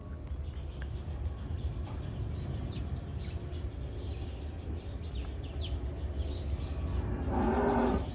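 Cattle moo on a farm in France in winter, a low call rising near the end over steady outdoor background noise, with faint bird chirps, no talking.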